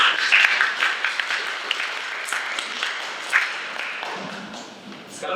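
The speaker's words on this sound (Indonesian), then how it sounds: "Mari kita berikan tepuk tangan sekali lagi bagi para penyaji." Audience at a presentation session applauding the presenters, steady moderately loud clapping that tapers off toward the end with a few stray claps.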